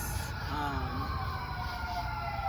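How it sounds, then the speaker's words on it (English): An ambulance siren passes outside, its rising and falling wail carrying faintly through steady low background rumble for a few seconds. "the ambulance thing is very loud"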